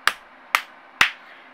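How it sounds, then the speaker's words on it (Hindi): Two fingers strike the left palm three times, giving three crisp, evenly spaced claps in quiet surroundings. "बाएं हथेली पे 3 बार ताली बजाएंगे"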